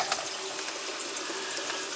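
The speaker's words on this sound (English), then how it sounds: "Something's dripping." A hose leaks and water splashes and patters constantly, a close, even hiss of falling water that fills the whole stretch without a break.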